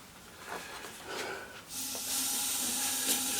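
An airbrush being cleaned out with Windex sprays in short airy hisses that rise into a steady broad hiss for the last half, close and fairly quiet.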